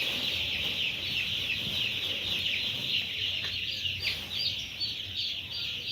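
Broiler chicks on a small home farm chirp continuously in a dense, high-pitched chorus while feed is spread on the floor, over a steady background hum.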